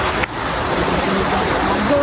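Clean, cold stream water flows down from Mount Banahaw near a campsite in Tayabas, Quezon, a constant loud rushing wash heard up close with no pauses.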